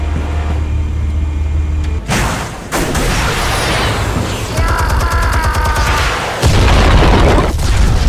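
Loud, dense booms and crackling bursts of explosives detonating in Batman: The Telltale Series, layered over a continuous rumble with sharp rapid pops and a heavy final blast.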